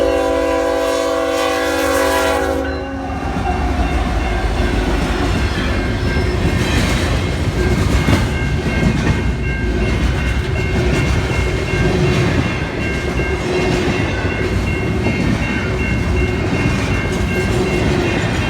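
Loud freight train rumbling past on the tracks near Winnipeg, a horn blaring at the start, then continuous heavy rolling and clatter of wagons close by.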